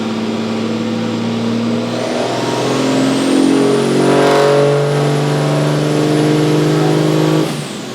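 A 2022 Cummins 5th Gen diesel pickup engine at operating temperature being run on a dyno pull, its loud, close rumble climbing steadily in pitch through the revs for several seconds before cutting off near the end.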